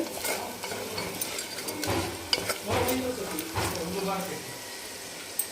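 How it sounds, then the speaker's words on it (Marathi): Red chili powder, garam masala, coriander-cumin powder and turmeric fried briefly in oil for a masala brinjal dish: a spoon scrapes and stirs in a few bursts over a gentle sizzle, with someone talking. "लाल तिखट गरम मसाला धिनं धने जिरे पावडर आणि हळद हे छान असं फ्राय करून घेऊ आपण एक काही सेकंद"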